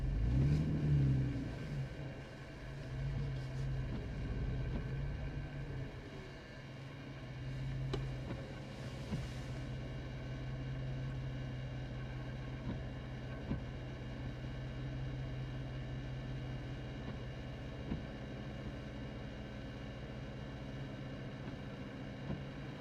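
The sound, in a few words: car passing by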